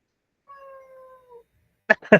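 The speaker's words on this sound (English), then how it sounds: "Even the cat says bye. Can you hear her?" A cat gives a drawn-out, tonal meow, then two shorter meows follow after a pause, close and clear in a quiet room.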